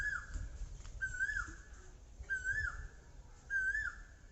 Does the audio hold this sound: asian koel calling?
yes